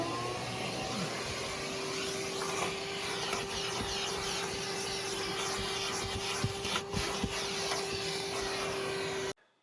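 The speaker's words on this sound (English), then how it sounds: "So now at least I'm going to vacuum the car out." A vacuum cleaner drones steadily at close range inside a 2003 Ford Mustang Mach 1, with a constant whine, scraping and bumping occasionally before cutting off abruptly.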